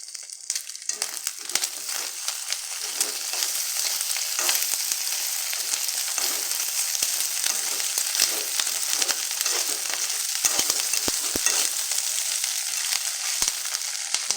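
Continuous sizzling and crackling from a frying pan as egg masala with curry leaves is sautéed, with occasional stirring scrapes; no talking.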